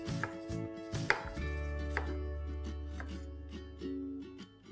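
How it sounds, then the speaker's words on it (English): Knife slicing thick pieces of vegetables for a summer rice salad, quiet close chopping with several distinct cuts against a board over a low steady hum, no speech. "Bringing all of these together and then slicing them nice and thick."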